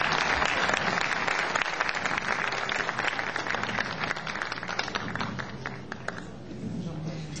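Applause from a concert audience welcomes a guest onto the stage at a Turkish classical music choir concert, starting as dense, loud clapping and thinning slightly toward the end, with faint voices beneath.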